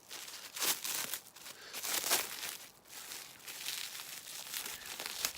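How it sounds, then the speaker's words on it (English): Plastic wrap being peeled off a frozen chunk of suet, giving close, continuous crinkling and crackling in uneven bursts with no talking. "Gotta unwrap it here."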